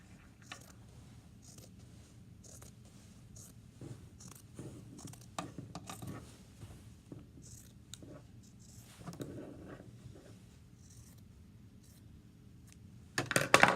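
Scissors trimming the edge of pillowcase fabric: scattered, faint close snips and soft fabric rustles in a quiet room, ending with a sharper clatter, no talking.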